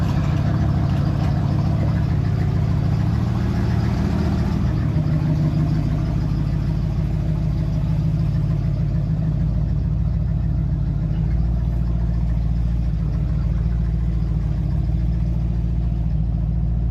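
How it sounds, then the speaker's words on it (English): A 1968 Ford Mustang's V8 engine idling, a deep steady rumble with a loping throb that holds even and loud throughout. "I tell you right now, it's idling really good"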